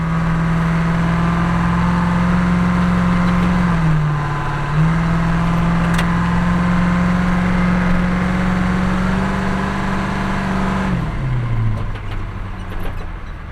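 A farm truck engine working hard as it builds speed through deep mud on a field track; a loud, steady engine drone holds, dips briefly, then drops in pitch as it eases off near the end.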